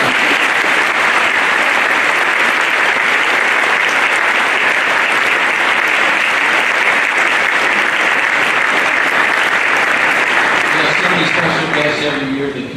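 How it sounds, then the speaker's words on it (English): A large crowd applauds the Chiefs ambassadors at a high school special event, loud continuous clapping and cheering that holds steady throughout with a voice emerging near the end. "If you would applaud for them,"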